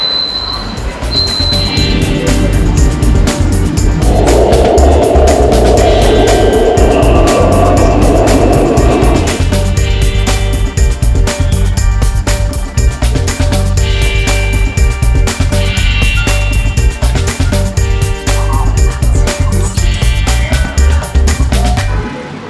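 A metro train pulls into a station in Xi'an, China, its loud, steady rumble and hiss filling the platform for a sustained stretch with a brief higher whine partway through.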